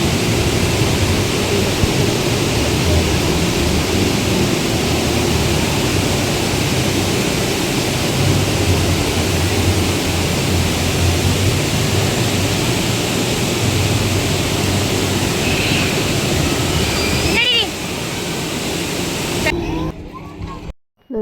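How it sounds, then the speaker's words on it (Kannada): Nawaja Falls, a waterfall in green surroundings, gives off a steady, dense roar of rushing water that fills the scene loudly, then drops away sharply near the end. "ನವಾಜ ಫಾಲ್ಸ್."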